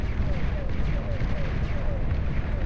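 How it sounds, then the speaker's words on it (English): Bombardier turret in the strategy game Beyond All Reason lobbing bursts of grenades, dull repeated thuds and booms rolling under a steady battle din, with a voice talking over the action. "Bombardier turret firing away wherever it can."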